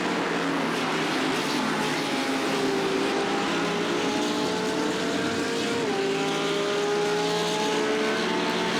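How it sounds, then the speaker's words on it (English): Race car engine screaming at high revs at Circuit de Catalunya, with a steady turbo whine over the roar; pitch rises and falls in sweeps as it drives past, loud and continuous throughout. "I hear the turbo, you can hear the whine from the turbo."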